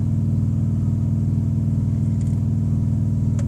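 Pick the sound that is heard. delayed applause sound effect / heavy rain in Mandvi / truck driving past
truck driving past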